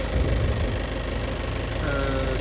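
A Peugeot diesel engine runs loud but even at close range, with a steady knocking clatter and no talk over it.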